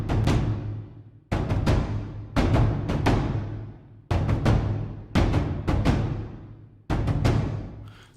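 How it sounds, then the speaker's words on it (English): A pair of tom drums played together in a rhythmic pattern, each deep booming hit ringing out and decaying before the next, in groups of strokes with short gaps, close and full with low-mid weight. "I've got a pair of toms which are here"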